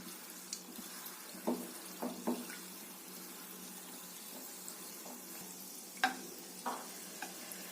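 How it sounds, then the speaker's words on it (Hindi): Gulab jamun deep-frying in oil produce a faint, steady bubbling hiss, with a few soft clicks of a spoon stirring the batch, heard close and without voices. "उसके बाद मैं दूसरा बैच फ्राई कर रही हूँ।"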